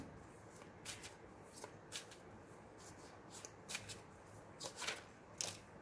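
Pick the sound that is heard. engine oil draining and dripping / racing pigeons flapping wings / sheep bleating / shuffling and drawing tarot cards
shuffling and drawing tarot cards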